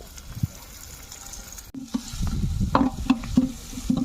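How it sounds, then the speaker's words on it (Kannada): Spices for a chicken sambar tempering crackle and sizzle in hot oil, quiet at first, then a sudden louder burst of popping and frying with clattering stirring, close and without speech. "ಆಗಲೇ ಒಗ್ಗರಣೆ ಹಾಕ್ತಾ ಇದ್ದಾರೆ ಚಿಕನ್ ಸಾಂಬಾರು ಮಾಡೋಕ್ಕೆ."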